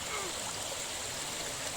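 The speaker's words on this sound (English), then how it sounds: "Now the water's coming down here." A waterfall pours down steadily with broad, continuous rushing water, fairly faint and unbroken, with voices talking over it.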